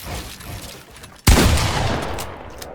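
Gunfire during a Fortnite box fight in a video game: a sudden loud, close burst of shots hits mid-clip and continues as a dense, sustained volley, following a quieter stretch of game noise, with no talking.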